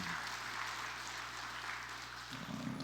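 A church congregation applauds steadily during a Sunday service, the clapping blending into a continuous, fairly faint wash of sound.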